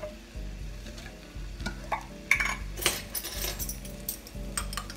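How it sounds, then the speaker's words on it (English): Minced garlic hits a hot pan and sizzles, a bright frying hiss that swells as stirring clinks and scrapes join in, over a low steady background hum, with no talking. "I'm gonna go ahead and put in some garlic."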